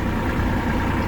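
A Kubota GL23 mini tractor with a front loader and rotary tiller runs its engine at a steady, close, continuous rumble through the whole moment, low and even with no pauses or talk.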